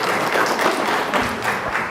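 A short burst of audience applause in a church service, a dense patter of clapping hands that stays fairly even and close throughout.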